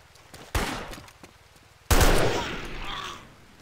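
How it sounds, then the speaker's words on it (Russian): Two loud bursts of gunfire in a video game set in a dense forest near an abandoned building, the first short and sharp, the second a heavier sustained volley that slowly decays, with no talk over it. "Он еще и стреляет"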